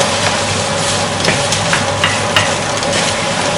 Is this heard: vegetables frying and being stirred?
yes